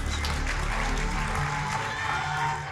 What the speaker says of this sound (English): Huge round of applause for the police